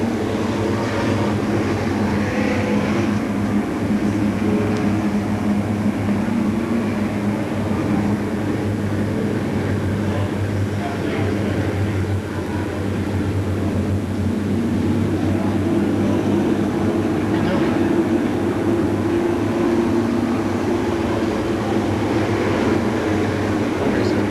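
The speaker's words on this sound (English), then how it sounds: "One more pace lap around as the back cars get into order." Race cars roll around Seekonk Speedway on a pace lap at the 1994 season finale, their engines a loud, continuous low drone that holds steady with no clear talking.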